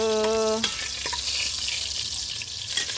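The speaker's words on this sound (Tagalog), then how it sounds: "Ginigisa na ng kuya ko." Garlic sautéing in a hot pan gives a steady, close sizzling hiss that runs throughout, after a brief tonal beep at the very start.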